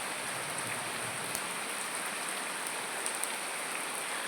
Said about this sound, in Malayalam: ഒരു പെരുമഴ എന്ന് തന്നെ പറയാം കേട്ടോ